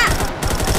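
Rapid bursts of gunfire in a Minecraft game, loud and continuous over under a second, with dense repeated shots filling the clip.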